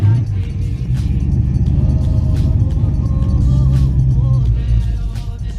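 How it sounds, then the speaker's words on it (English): A carbureted car idling roughly just after a cold start, heard from inside the cabin as a loud low steady rumble with slight engine fluctuations, with a person talking over it. "Cold start from inside the car."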